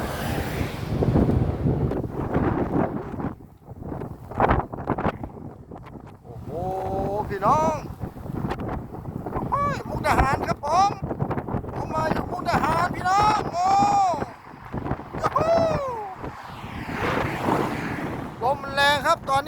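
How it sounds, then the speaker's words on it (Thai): Strong wind buffets the microphone in a broad, steady roar at a mountain pass in Mukdahan, Thailand, with people talking over it almost throughout. "ลมแรง"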